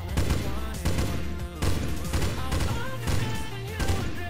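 Gunfire from the mobile zombie shooter Zombie: Whispers of the Dead rattles in continuous rapid bursts, loud and dense over a low droning game soundtrack.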